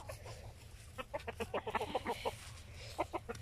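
A flock of grown chickens clucking nearby, with short bursts of rhythmic clucks and calls rising over a low background hum and no talk.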